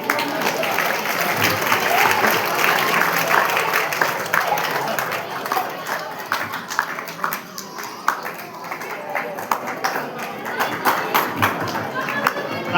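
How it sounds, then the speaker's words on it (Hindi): Children applauding at a 15 August Independence Day school event, sustained loud clapping from a crowd that rises and thins out, with an announcer's voice over it. "तालियों के साथ बच्चों।"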